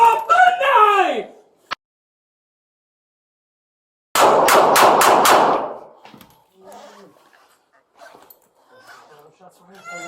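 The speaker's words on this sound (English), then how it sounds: "445 Alpha, shots fired" Police gunshots ring out as a rapid burst of about five sharp, loud cracks in quick succession, following a shouted voice and a stretch of silence, then fading into scattered quieter sounds and faint speech.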